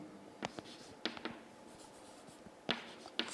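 Marker or chalk writing on a board during a concrete shear-strength lecture, a few quick scratchy strokes in short bursts with pauses between, fairly close, no talking.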